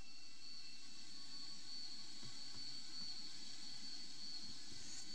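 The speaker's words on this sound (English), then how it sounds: "So while the plane gracefully takes off," A jet airliner's engines roar steadily during takeoff in the FlightGear flight simulator game, a faint, continuous hiss and rumble with a high whine, with no voices.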